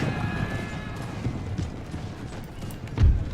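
Cavalry charge in the Imperial Splendour mod of a strategy war game: a dense, steady rumble of many galloping hooves under battlefield ambience, with a louder thud near the end.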